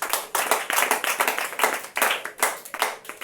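Congregation clapping in steady rhythm at a church service, a dense run of sharp hand claps across the whole stretch with no talking.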